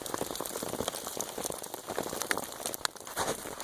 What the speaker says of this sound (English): Just this freezing rain, wintry mix, and the fire has gone out pretty much.